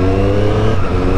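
A Triumph Street Triple three-cylinder motorcycle engine revs loud and close in one dense, sustained burst of growling harmonics.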